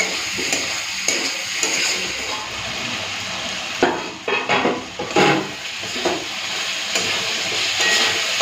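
Spice paste with potatoes, tomato, sugar, turmeric and Kashmiri red chilli fries steadily in a pan, a continuous close sizzle with scraping stir strokes and a few louder bursts midway.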